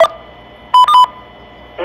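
Touch-tone keypad beeps dialing into an AllStar amateur radio node: a couple of short, loud DTMF tones in quick succession after a brief lead-in tone, with another tone starting at the end.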